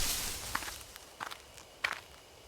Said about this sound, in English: there are footsteps close by from the bushes